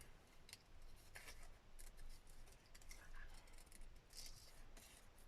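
Scissors snip through a paper tag for junk journal crafting, with quick repeated cuts in an irregular rhythm close to the mic over a steady background hiss.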